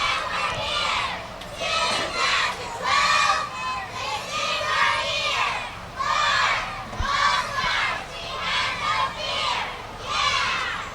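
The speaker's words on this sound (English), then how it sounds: "Let's hear a cheer. Yeah, come on, cheer, girls, cheer." A competitive youth cheerleading team shouts a rhythmic chant in unison during a Fourth of July parade in Granbury, repeated loud bursts of girls' voices over crowd noise.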